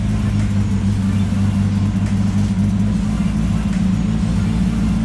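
Suzuki Swift GTi engine idling, a steady low rumble that holds even and loud throughout with no clear revs.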